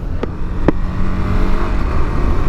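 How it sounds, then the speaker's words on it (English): A car passes on a highway while a motorcyclist waits roadside, a steady broadband road rush swelling slightly as it goes by, with a couple of sharp clicks near the start and no talking. "Car coming"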